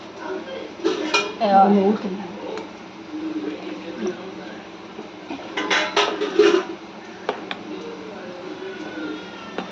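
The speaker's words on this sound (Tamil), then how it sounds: "கரண்டி வச்சு வந்து கலக்கிடலாம்" A metal spoon clinks and scrapes against a bowl while mixing peanut chutney, in irregular bursts with pauses between, close and fairly loud.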